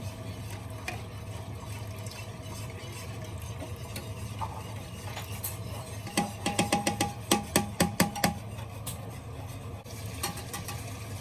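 A whisk stirs homemade gravy in a pot, soft liquid swishing throughout, then a quick run of sharp metallic taps against the pot's side, close and with no talk.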